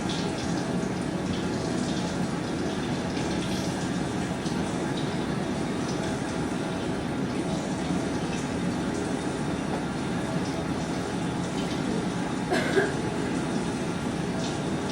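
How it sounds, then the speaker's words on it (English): Running water from a sink tap pours steadily during a surgical hand scrub, a continuous rushing hiss with a brief clatter near the end. "Wet the scrub brush under running water and squeeze to lather the scrub solution."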